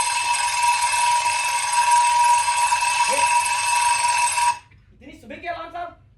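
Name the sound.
alarm clock ringing early in the morning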